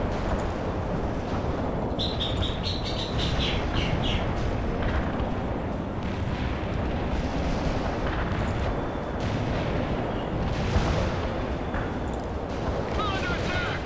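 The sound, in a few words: artillery fire in World in Conflict video game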